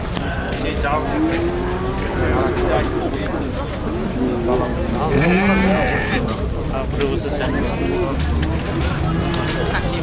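Several sheep bleat repeatedly amid a noisy livestock market, their calls overlapping with crowd chatter and general background bustle.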